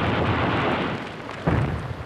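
Salvo from a massed Katyusha rocket battery in archival war footage of the Kursk battle: a dense, continuous roaring rumble with a sharper burst of blasts about two-thirds through, loud and without talk.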